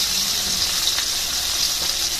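Milkfish (bangus) being turned in hot oil for crispy frying, a steady bright sizzle of frying oil running throughout with a brief spatter as the fish is flipped, close and fairly loud with no talk.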